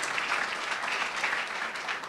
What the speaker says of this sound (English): Yeah, you can give him a round of applause for that.